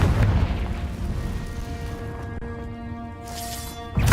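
A Confringo fire spell detonates in Hogwarts Legacy as a deep, rumbling boom with a lingering roar, then a fresh burst hits near the end.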